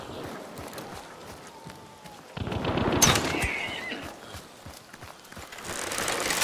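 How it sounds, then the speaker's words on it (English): A chaos bomb in the game Hunt: Showdown goes off with a burst of sharp bangs and rattling crackles. The noise swells and churns under ambient game sounds, including a horse's whinny, and continues for several seconds. "it's a chaos bomb for sure"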